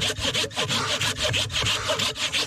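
A hand saw cuts through wood in quick, regular back-and-forth strokes, close and loud, with a rasping scrape on each pass.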